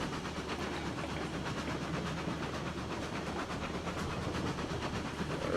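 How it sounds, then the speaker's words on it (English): Steam train pulling out of a logging camp station at night in the game RailRoads Online, with a steady rumble, soft rhythmic chuffing and hiss, fairly quiet and continuous without talk. "about to pull out of the station."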